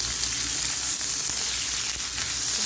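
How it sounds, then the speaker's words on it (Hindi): Onions shallow frying in cooking oil for Lahori chana give a dense, steady sizzle that holds at an even loudness throughout, close and with no voices over it. "अच्छे तरीके से मैं इनको शैलो फ्राई करूँगी प्याज को"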